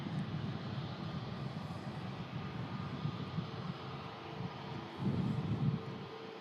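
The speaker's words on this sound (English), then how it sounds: "once that aircraft is taxied past, it should leave clearance for the Juniao to continue taxi as well" Low, steady rumble of a Neo aircraft taxiing at Manchester Airport, heard from a distance with a slight swell toward the end and no voices.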